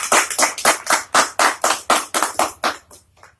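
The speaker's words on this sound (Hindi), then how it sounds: "इसकी एक बार जबरदस्त ताली हो जाए प्रोडक्ट" An audience at a business presentation claps in a quick rhythmic burst of about a dozen sharp, close claps that taper off at the end.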